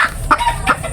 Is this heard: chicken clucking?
yes